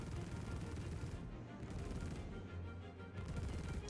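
The small Gatling gun on a Merlin ship in Star Citizen fires in a steady, rapid buzzing stream of shots, loud and close, with brief dips in the barrage.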